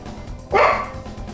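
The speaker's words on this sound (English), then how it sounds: "Please, no barking, puppy." One short, sharp bark from a puppy out in a hall, heard from a little distance through a low steady background hum.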